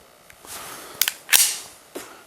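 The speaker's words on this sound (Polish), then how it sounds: "Wkładamy magazynek do pistoletu." A gas magazine is inserted into a TT airsoft pistol (WE33 by WE), giving a couple of sharp, close metallic clicks and snaps in quick succession against a quiet background.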